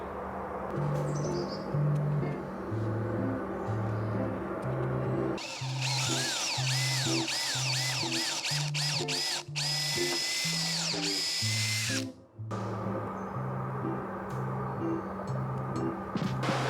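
A power drill drives screws to fit two small hinges on an old sailboat's locker lid. It runs in repeated close, loud bursts of whirring, with birds chirping faintly in the background.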